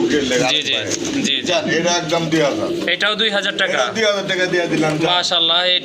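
Pigeons of the German Beauty Homer breed coo continuously up close, their throaty warbling calls overlapping under steady talk.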